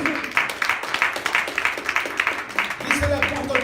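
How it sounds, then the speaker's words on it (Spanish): A church congregation claps during a Spanish-language service, a fairly steady round of hand claps with a voice speaking over them toward the end. "Denle un aplauso a Jesús."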